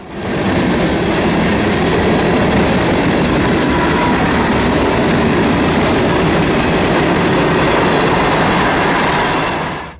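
Freight train hauled by Union Pacific locomotives, passing through Folkston, roars by close and loud for the whole stretch, a steady wall of rolling wheel and car noise with faint clatter and no talk.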